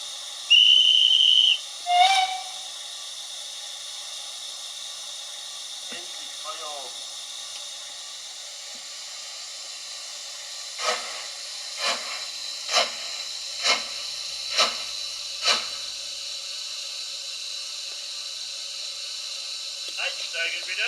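Lenz BR55 steam locomotive model in O gauge (DB class 55) making operating sounds: a short whistle blast, then a series of sharp steam-release hisses in a steady rhythm over a constant background hum, close and moderately loud.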